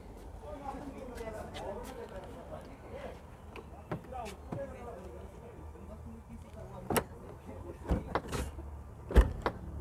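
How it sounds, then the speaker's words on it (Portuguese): A car door is shut firmly on a used car at an outdoor car fair in Caruaru, giving a few solid thuds near the end over steady background chatter and talk. "Fechada da porta está boa"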